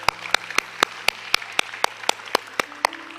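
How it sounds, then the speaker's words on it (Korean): A church congregation claps in a slow, steady unison rhythm, about a dozen evenly spaced sharp claps echoing in the sanctuary, with a low sustained hum underneath. "우리 하나님께 감사의 박수를 드리겠습니다."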